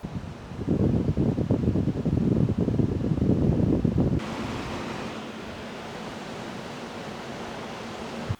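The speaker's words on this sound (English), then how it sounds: "on load, the fans and pump do give off quite a whir." Computer cooling fans and an AIO liquid-cooler pump whir under a gaming load in an APNX V2 PC build, a steady broadband rush that is louder in the first half and then drops to a softer, constant hum.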